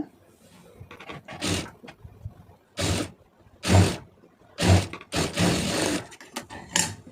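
A sewing machine stitches a folded quarter-inch waistband in several short bursts of rapid mechanical whirring, separated by brief pauses.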